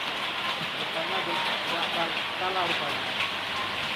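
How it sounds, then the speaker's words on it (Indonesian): Heavy rain pours down outdoors in a steady, loud hiss of broadband noise that never lets up, with people talking over it. "Lebat ya hujannya ya."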